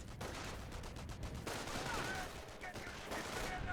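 Gunfire in the World War II strategy game Company of Heroes: dense, continuous bursts of rifle and machine-gun fire with distant battle rumble, fairly quiet throughout.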